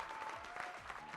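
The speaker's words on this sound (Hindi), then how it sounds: "दोस्तों ताली बजा दीजिए आप एक बार इनके लिए।" A seminar audience applauds, a dense burst of clapping from many hands that is steady and fairly distant for a brief moment.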